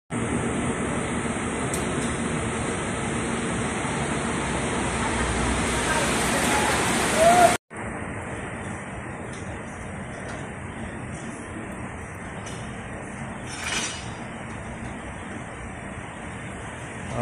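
A typhoon with heavy rain roars as a constant, close wash of water noise at a deepwell station where a submersible pump is being repaired. The noise cuts out briefly partway through, then resumes slightly softer.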